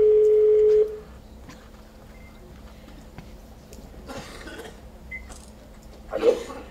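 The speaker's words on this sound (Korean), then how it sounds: "전화를 한번 연결해 볼까요?" A steady telephone tone sounds for about a second, then stops, followed by quiet line noise with faint clicks and a brief beep.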